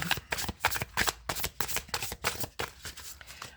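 Tarot cards are shuffled and cut in a quick run of crisp, papery riffles and slaps, close and fairly loud, arriving in rapid bursts with no voices.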